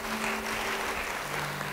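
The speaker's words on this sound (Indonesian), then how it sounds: "Beri tepuk tangan engkau yang mau." A church congregation claps during a sermon, a faint, steady patter of many hands heard from a distance without speech.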